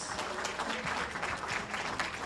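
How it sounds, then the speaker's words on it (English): Steady, dense applause from an audience at an evening event welcoming a state senator, many hands clapping at once in a continuous wash without a break. "Give him a big round of applause"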